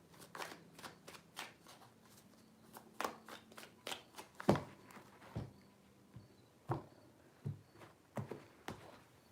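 A deck of tarot cards is shuffled by hand, giving a run of crisp, irregular snaps and riffles close up, sharp flicks scattered across several seconds with quiet handling in between.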